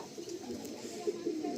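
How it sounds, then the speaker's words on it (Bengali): A female Madrasi pigeon coos softly and steadily at close range, her low murmuring calls rising a little toward the end without any talk. "এটা আমার মেন মাদি পায়রার বাচ্চা"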